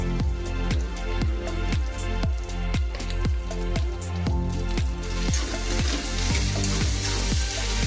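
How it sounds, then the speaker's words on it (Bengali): Spices fry in hot oil in a masala for katla fish head muri ghonto, with a loud, constant sizzle and a steady pattern of crackling pops that grows brighter and hissier toward the end. "মশলাটা খুব ভালো করে কষিয়ে নিতে হবে।"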